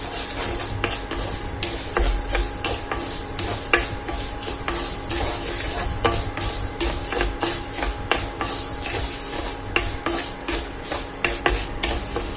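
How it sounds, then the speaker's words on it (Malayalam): Horse gram roasting in a hot pan over a high flame, with repeated sharp scraping and stirring strokes over a steady crackling sizzle, close and fairly loud. "ചൂടായ പാനിലേക്ക് മുതിര ഇട്ട് കൊടുക്കാം"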